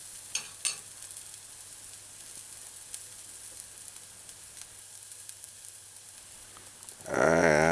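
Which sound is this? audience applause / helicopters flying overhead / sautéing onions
sautéing onions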